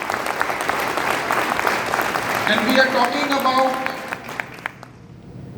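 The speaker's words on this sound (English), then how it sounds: "A big round of applause to all of you." Applause from an audience in a room fills most of the stretch, dense and steady before thinning out, with a voice speaking over it partway through.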